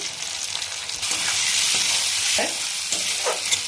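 Paakal fish frying in oil in a pan for a Bengali fish curry, a loud close hiss of sizzling that swells after a second and holds, with a few scraping stirs of a spatula and no talk.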